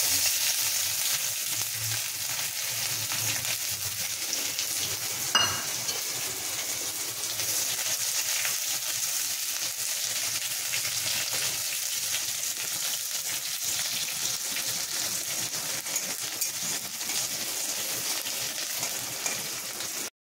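Onions frying in hot oil with two dried red chillies for thotakura pappu, a steady even sizzle held for about twenty seconds, close and moderately loud, with one brief knock early on and no talk.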